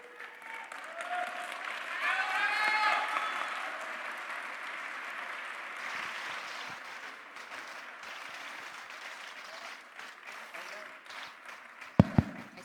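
Loud applause from a church congregation at the end of a Catholic service led by a priest, swelling early and then continuing as steady clapping, with a brief sharp knock near the end.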